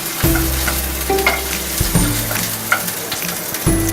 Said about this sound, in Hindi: अदरक और हरी मिर्च हमारे भुनने आ गए हैं।